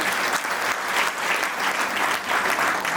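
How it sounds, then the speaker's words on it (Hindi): A big audience gives loud, continuous applause for an army company, dense rhythmic clapping swelling and ebbing in waves with no voices on top. "एक बार जोरदार ताली आर्मी कंपनी के"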